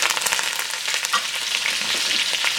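Curry leaves fry in hot oil with cloves, black peppercorns, cardamom, fenugreek seeds, cumin and a cinnamon stick, a loud crackling sizzle with rapid spitting pops that gradually settles to a steadier hiss.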